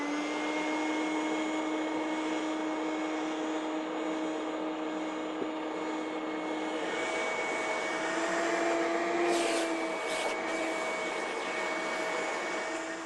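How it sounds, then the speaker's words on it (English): A vacuum cleaner fitted with a crevice tool works over car seats between the cushions, a loud steady motor whine holding a constant pitch, shifting slightly as the nozzle is pressed into the gap, with brief rustling bursts near the end. "When vacuuming the seats, make sure you get in between the two cushions. This is a real trouble spot. The crevice tool is real handy for this."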